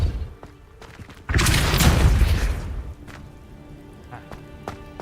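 A Depulso spell fires in Hogwarts Legacy, a loud whooshing, rumbling blast bursting out after a quiet moment and fading over about a second and a half, with faint clicks and game ambience around it.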